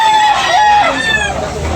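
A Hulsey Grey rooster crows loudly and close at a rooster sale, one full rising-and-falling call lasting under two seconds, heard alone.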